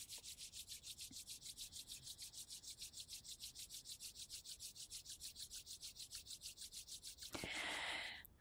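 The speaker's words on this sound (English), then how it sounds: "So please rub your hands together." Palms rubbing briskly together in a steady back-and-forth rhythm during a calm meditation session, a soft dry swishing repeated many times, ending with a brief fuller brushing sound as the hands come to rest.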